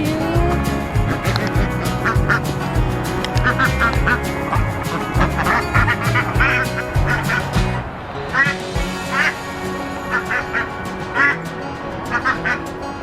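Pet ducks quack repeatedly beside their coop outdoors, loud and close, with steady honking calls over a dense background and a brief lull before more quacking resumes.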